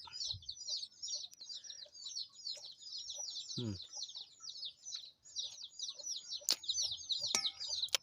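Backyard garden chickens cluck and chatter while small birds chirp repeatedly, a dense, fairly faint layer of calls running throughout with a few sharp clicks and knocks nearby.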